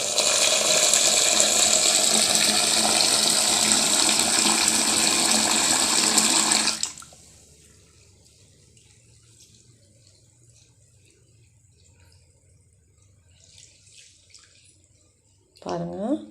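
Soaked black gram lentils being washed under running tap water, a loud, steady rush of water for several seconds before it stops, leaving quiet background and a brief clatter near the end.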